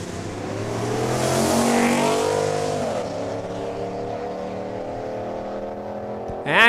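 Street-legal trucks launch off the line at a quarter-mile drag race at Saskatchewan International Raceway in Saskatoon, engines roaring loudly, swelling as they pull away, then settling into a steady drone.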